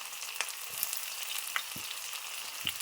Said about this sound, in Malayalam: അതുകൊണ്ട് നൈസായിട്ട് നമുക്ക് ഈ സവോള ചേട്ടനെ അങ്ങോട്ട് ഇട്ട് കൊടുക്കാം